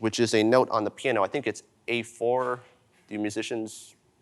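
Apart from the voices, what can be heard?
No distinct noise like a dog, phone or traffic.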